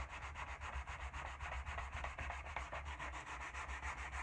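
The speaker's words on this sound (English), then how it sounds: "So take your sandpaper. Finish sanding it." Sandpaper rubbed by hand over a wooden handle in quick, even back-and-forth strokes, a close steady rasping rhythm with no talking.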